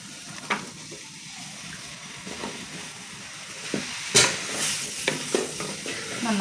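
Pieces of Chinese potato (koorka) are stirred in a frying pan: soft sizzling runs underneath while a spatula scrapes and knocks in scattered strokes, a few of them sharp and loud.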